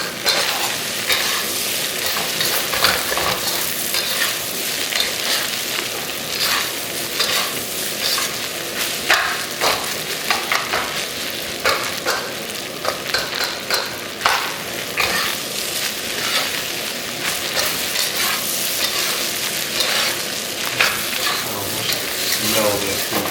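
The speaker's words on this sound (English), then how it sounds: "Breaking that leftover rice, so that will plump together." Leftover rice stir-fries in a hot pan for breakfast fried rice, giving a loud, steady sizzle broken by scraping and stirring strokes up close, with no one speaking.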